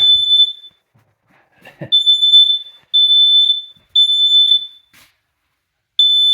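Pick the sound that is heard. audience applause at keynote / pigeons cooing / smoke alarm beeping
smoke alarm beeping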